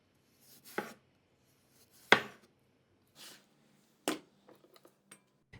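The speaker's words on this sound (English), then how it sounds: "Same thing for potato, peels off, slice it up as thin as possible." A knife slicing a peeled potato thinly on a cutting board, with sparse, distinct chopping taps spaced about a second apart, close and quiet, with no talk.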